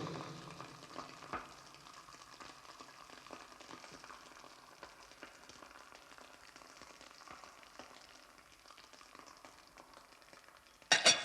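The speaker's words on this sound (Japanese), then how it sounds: "フライパンにまずバターをのせて 溶け終わる頃合いに卵を割り入れる。" An egg fries in melted butter under a lid in a pan over very low heat, giving a faint, even, continuous sizzle that ends with a brief sharp clatter.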